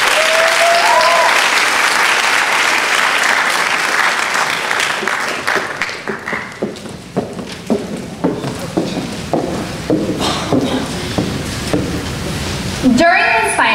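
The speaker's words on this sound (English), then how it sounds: "How about a round of applause for Kat?" Loud, dense audience applause for a speaker at a college speech night thins out into scattered individual claps before dying away, with brief voices near the start and again at the end.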